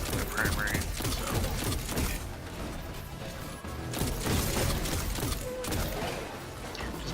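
The Wardcliff Coil rocket launcher in Destiny 2 fires a dense, rattling fusillade of blasts and crashes, mixed with mechanical clatter. The loud barrage goes on almost the whole time, with a brief dip in the middle.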